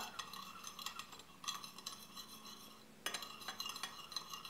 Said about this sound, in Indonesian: kita akan aduk sampai rata